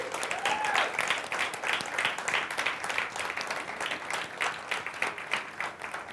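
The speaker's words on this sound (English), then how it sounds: "Can we give them a round of applause?" An audience at a conference gives a sustained round of applause for pod leaders, dense clapping heard at moderate distance that holds steady throughout.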